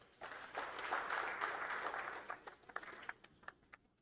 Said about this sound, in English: With a warm round of applause, let's welcome Shri Cyril V.D.